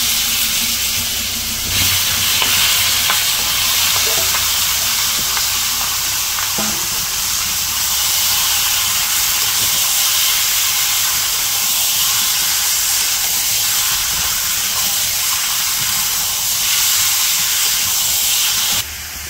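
Duck meat dropped into hot oil with cumin for a village-style duck curry sizzles loudly and steadily, a continuous close frying hiss with faint stirring scrapes throughout.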